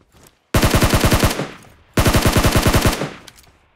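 Gunfire in PUBG: two loud, close automatic bursts of about ten rapid shots each, separated by a brief gap, with crisp sharp cracks and a short tail after each burst.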